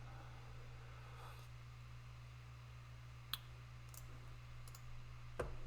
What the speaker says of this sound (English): but I click the button.